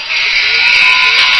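An end-of-game buzzer sounds at a junior hockey game between Carleton Place and Portage: one loud, sustained electronic tone that holds steady for the whole moment, with arena noise mixed in.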